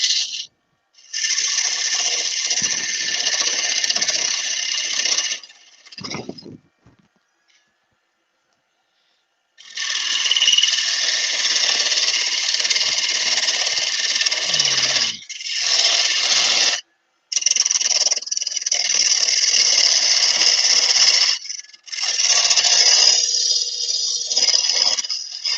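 A wood lathe turning a bowl with a blunt chisel gives loud, sustained rasping cuts in several long bursts, separated by brief pauses and one longer silent gap.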